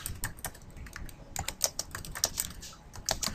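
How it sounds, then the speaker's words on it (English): Rapid typing on a computer keyboard, close and fairly quiet, with irregular clusters of key clicks and no talking. "I'm just going to type"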